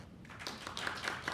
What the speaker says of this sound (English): Clap if you attended Eve's workshop yesterday.